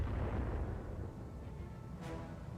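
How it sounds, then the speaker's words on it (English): Mortar fire in the Battletech video game rolls out as a deep, muffled rumbling boom that slowly decays over a few seconds, followed by a faint later thump. "Those are mortars."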